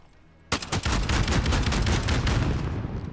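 A Frag rifle fires in automatic bursts in the shooter game Call of Duty Modern Warfare, a loud, dense stream of rapid shots that starts abruptly and runs without pause to the end.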